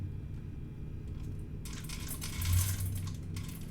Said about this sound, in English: we got a new automatic cat feeder, so I don't have to stand up when I hear a clicking noise.